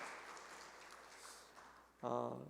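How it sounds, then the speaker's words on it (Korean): A church congregation claps in welcome at the end of a Korean worship service. The soft, diffuse applause fades away, and then a voice starts speaking close to the microphone. "다시 한번 크게 한번 박수할까요?"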